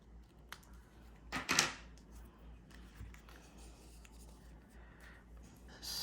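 Paper being trimmed for a planner, a quick close-up scraping cut lasting under a second, followed by faint rustles and taps in a quiet room.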